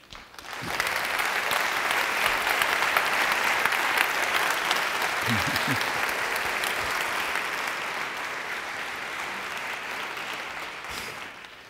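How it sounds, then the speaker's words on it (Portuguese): A theatre audience at a live talk event gives sustained, even applause that swells quickly and holds for roughly ten seconds before tapering off. The sound is dense and full, with no speech over it. "Muito obrigado pelas palmas"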